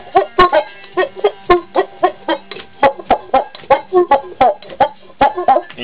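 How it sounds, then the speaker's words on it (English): A homemade tin-can cuica, with cloth rubbed up and down a bamboo skewer, gives a quick rhythmic run of squeaky, clucking friction squeals, about twenty close strokes in an even pulse. "you just rub the cloth gently up and down on the bamboo skewer"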